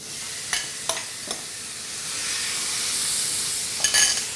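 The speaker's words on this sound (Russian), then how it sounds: "И теперь на сковороду я добавляю креветки, которые достаточно промариновались." Marinated shrimp dropped into a hot pan, a broad steady sizzle swelling after a few sharp clinks and scrapes of stirring, close and fairly loud without talk.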